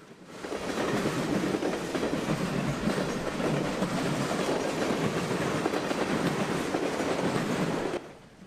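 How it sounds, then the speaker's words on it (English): A northbound train rolls past on a Norfolk Southern main line in Kentucky, a steady loud rumble with rail clatter filling the whole stretch before it cuts off near the end. "There's the train we just saw, waiting for this one to clear."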